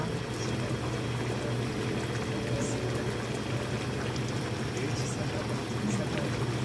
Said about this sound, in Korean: 양념 있는 국물에 넣고 이렇게 계속 끓이면 국물이 조금 조글조글 자글자글해집니다